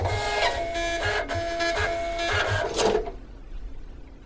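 A receipt printer driven by a USB embedded host prints a demonstration slip, giving about three seconds of rhythmic buzzing line-feed bursts, fairly close and loud, then cutting out to a quiet tail.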